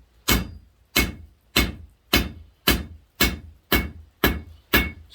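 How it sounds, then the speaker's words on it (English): Hammer blows forging a steel firepit poker, eight sharp, evenly spaced strikes about half a second apart, each ringing briefly before the next, close and loud with no talk. "make your hammer hits lighter, or you'll just end up crushing it and totally distorting it"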